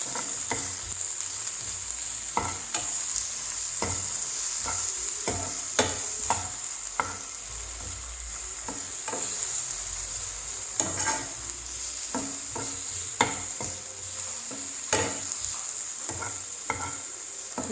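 Ema Datshi chillies being stirred in a pan, a steady close sizzle and hiss of frying with repeated scraping clicks of the spoon throughout, no voices.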